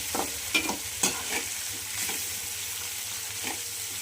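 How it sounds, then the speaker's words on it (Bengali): Ridge gourd fries in hot oil in a pan with steady, quiet sizzling, while a utensil stirs it in several soft scraping strokes, with no talk. "দেখুন এইভাবে আমি ভাজতে থাকবো, সুন্দর করে ভেজে নেব।"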